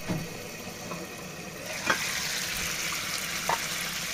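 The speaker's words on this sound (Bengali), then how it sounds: "তো এতে করে আমি সবগুলা টমেটো দিয়ে দিলাম, তেলের মধ্যে ছেড়ে দিলাম।" Tomatoes fry in hot oil in a pan, a quiet, steady sizzle with a few soft clicks and knocks from the pan, no one talking.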